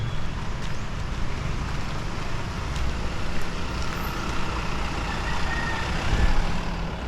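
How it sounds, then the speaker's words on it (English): Discovery Shores shuttle bus rumbling past at Sambiray Port in Malay, Aklan, a steady low engine drone of moderate loudness with light rain and road noise, no voices. "There's the Discovery Shores bus"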